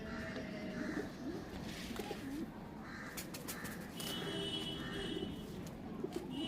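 Kaldum pigeons coo in a loft, low soft calls repeating over a steady background hum, with faint bird chatter and occasional sharper calls mixed in.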